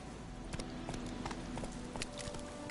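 Hooves of the horse Roach in the video game Witcher 3 clip-clop in a steady trotting rhythm, moderately close and distinct over a quiet background.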